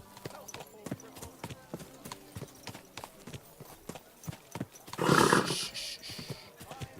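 A horse in the video game Kingdom Come: Deliverance 2 clops along in quick, close hoofbeats, then breaks into one loud, rising whinny before the hooves carry on, with a voice speaking briefly in the background.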